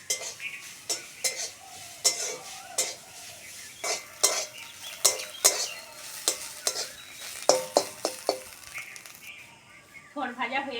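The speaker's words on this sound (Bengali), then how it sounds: "থোড় ভাজা হয়ে গেছে, চিনি দিয়ে নামিয়ে নেব।" Sliced banana stem fries in a metal kadai over a village cooking fire, with irregular scraping stir strokes and clinks of the spoon against the pan over a continuous close sizzle.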